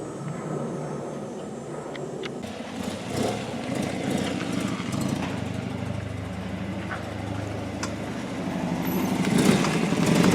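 A motorcycle engine runs at low, steady revs while the bike is loaded onto a carrier rack on a Sunline 2380T toy hauler camper. The engine sound is fairly faint and builds slightly toward the end.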